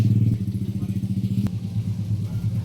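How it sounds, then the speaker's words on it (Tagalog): A motorcycle engine idles and rumbles close by in a steady, pulsing throb with light clatter as it is moved under shelter, running throughout without speech. "Nara gisilong ni Duy ang motor guys."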